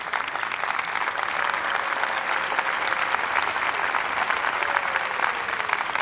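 Church congregation applauding a family's graduation, a steady wash of many hands clapping together at moderate distance, sustained evenly throughout without talk.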